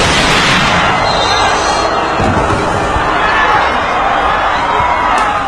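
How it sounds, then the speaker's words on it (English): Grenade blast on an indoor basketball court, heard as a loud, dense burst of noise with crowd commotion that stays continuous for several seconds without a distinct single bang. "Seconds before the explosion, Yoav picks up the grenade and tries to run"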